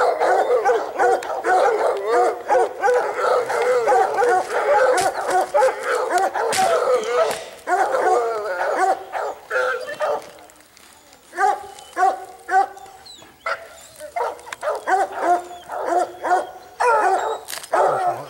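Hunting dogs bark excitedly at a treed mountain lion, a dense chorus of overlapping barks, yips and whimpers close by and loud throughout, briefly thinning midway before building again.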